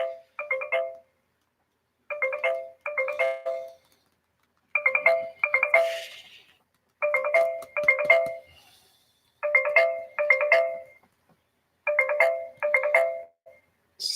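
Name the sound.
phone ringtone ringing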